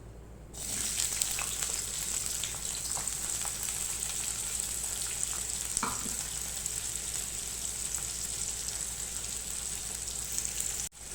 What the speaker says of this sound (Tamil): எண்ணெய் காஞ்ச உடனே ஒரே ஒரு பெரிய வெங்காயம் கட் பண்ணி வச்சுருக்கேன் அதை சேர்த்துக்கிறேன்